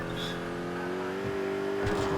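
A police car engine in the video game GTA IV hums steadily at a constant pitch, slightly rising toward the end, with a faint whoosh of motion.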